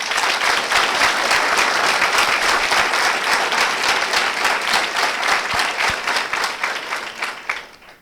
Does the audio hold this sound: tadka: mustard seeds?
no